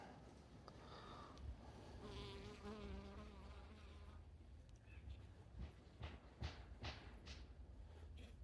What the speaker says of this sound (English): This little bee thinks I'm a tasty snack.